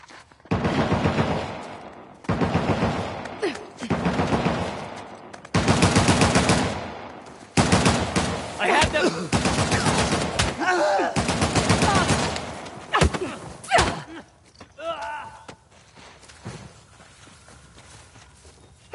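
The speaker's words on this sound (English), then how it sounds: "You boys really don't want me shooting from down here." Gunfire in the video game Uncharted: The Lost Legacy, loud bursts of rapid automatic fire in several long volleys with scattered single shots, fading to sparse pops near the end.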